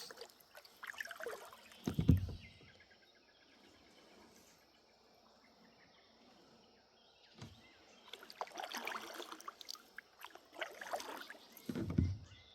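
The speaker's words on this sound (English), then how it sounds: "Paddle down a little further" A canoe paddles through floodwater, quiet strokes and splashes coming in three bursts separated by near-silence, with faint insect chirping in the background.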